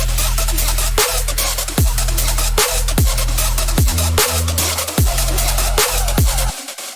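A dense, saturated music track run through a saturator instead of a limiter, with a heavy thumping kick and rolling bass, loud and continuous, with the low end cutting out at the end.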